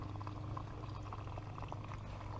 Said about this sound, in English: Then you see it's kind of flowing off like a waterfall down there